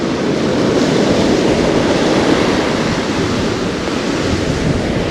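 Ocean waves break and wash steadily onto a beach where surf fishing for halibut is under way, a loud continuous roar of surf with wind buffeting the microphone and no voices.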